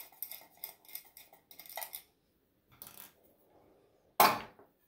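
Small metal parts rattle and clink as a nut and cap come off a hanging dining-room light fixture cover, a string of light taps and jingles, then a pause and one sharper clatter near the end.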